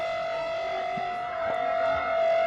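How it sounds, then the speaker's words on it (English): A civil defence siren being tested in central Delhi sounds as a steady, sustained wail heard from a distance. It holds a constant pitch over a noisy outdoor background. "because looks like the sirens are being warmed up."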